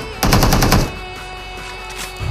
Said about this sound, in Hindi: अब देखो AKM से एक और को नॉक करते